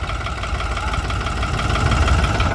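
A New Holland 3630 tractor idles with an 8-foot Param rotavator attached, its engine giving a steady loud rumble with a rapid knocking pulse and no speech over it.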